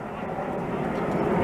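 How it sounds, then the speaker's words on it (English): A Bombardier test jet, a half-painted private-jet-type plane, flies in over Montreal with a steady, building broadband engine roar that stays fairly loud throughout, with no speech heard. "Oh, you know what? That's a Bombardier test plane."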